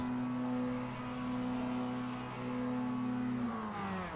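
A Mazda MX5 race car at the race start at Phillip Island, heard on board as a steady, loud engine drone held at high revs that bends down slightly near the end.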